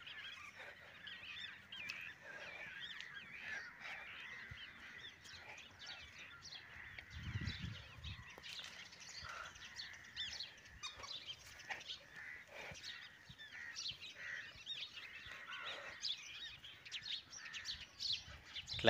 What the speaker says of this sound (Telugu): ఇక్కడ అన్ని పక్షులు కూడా చాలా మంచి మంచి శబ్దాలు అయితే చేస్తున్నాయి.